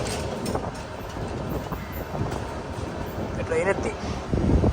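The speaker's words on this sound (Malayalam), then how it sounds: "ഒരു ട്രെയിൻ വരുന്നുണ്ട് അങ്ങനെ." A train rolls into Thiruvananthapuram railway station with a steady rumble and rattling wagons, building toward the end, while people talk nearby.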